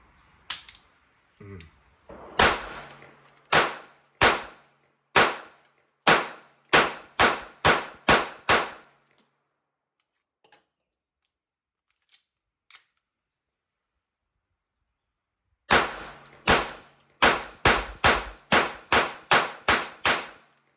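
Walther P22Q .22LR pistol firing Federal Hammer Down ammunition: sharp, loud reports in quick strings, a burst of about nine shots, a long quiet pause with faint clicks, then another rapid run of about nine.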